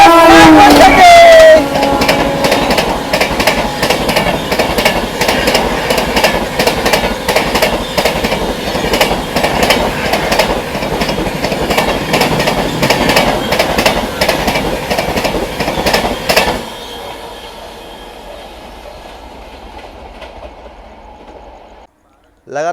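The Sealdah–New Delhi Rajdhani Express rushing past on the neighbouring line close by, a loud continuous roar with rhythmic clickety-clack of wheels over rail joints for about sixteen seconds before dropping off sharply to a quieter rumble.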